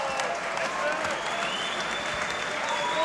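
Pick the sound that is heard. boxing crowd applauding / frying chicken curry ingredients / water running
boxing crowd applauding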